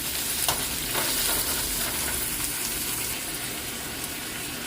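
Onions sizzle in oil in a pan while they are stirred with salt for a dried fish curry, a loud and steady frying hiss with spoon scrapes and no speech.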